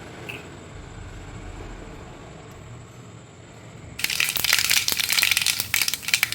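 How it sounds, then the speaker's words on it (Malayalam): Loud, dense crackling and spitting bursts out suddenly after a quiet stretch as mustard seeds pop rapidly in hot coconut oil, close by. "ഇനി ഒരു പാത്രത്തിൽ കുറച്ച് വെളിച്ചെണ്ണ ഒഴിച്ച് കടുക് പൊട്ടിക്കാം"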